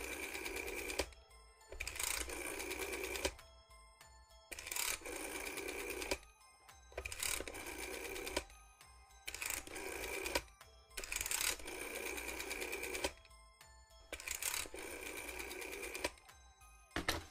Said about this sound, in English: I honestly hate this rotary dial thing that Carmel Games uses.